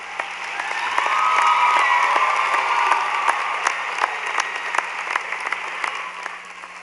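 An audience at a high school graduation ceremony claps steadily and warmly, sustained applause swelling early and continuing with some cheers mixed in.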